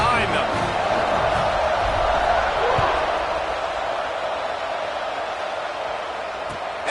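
A big football stadium crowd at a Nebraska versus Michigan State game lets out a continuous roar and cheer at kickoff, a broad wash of noise that holds steady throughout with a commentator talking over it.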